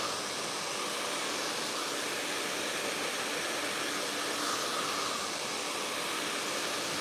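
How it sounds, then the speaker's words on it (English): Hair dryer blowing on natural hair, a constant loud airy roar close to the microphone that stays steady throughout with no talking. "Try to hold the tips like this, and then you start blow drying"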